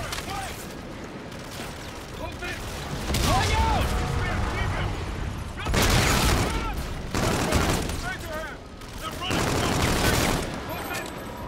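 Gunfire in Call of Duty Infinite Warfare, dense overlapping automatic fire and booms that swell and fade in waves, with someone talking over the action.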